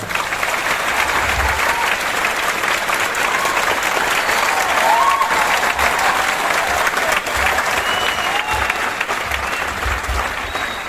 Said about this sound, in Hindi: तो एक बार खुद के लिए जोरदार ताली हो जाए।